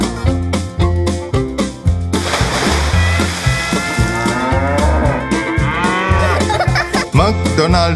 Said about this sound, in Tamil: பண்ணையில் ஒரு மாடு இருந்து